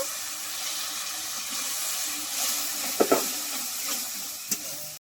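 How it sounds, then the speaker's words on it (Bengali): Turmeric, cumin and chilli spice paste frying in a pan with a splash of water gives off a steady hiss and sizzle, with a few sharp clicks and scrapes of stirring partway through. "একটু জল দিয়ে মশলাটা ভালো করে কষিয়ে নেব"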